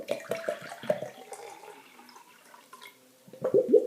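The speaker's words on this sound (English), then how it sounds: "I'm going to take my same pitcher and I'm going to add some water to it." Water poured from a pitcher during a simple kitchen science demonstration, quiet splashing and trickling in short bursts near the start and again more loudly at the end, with no talking.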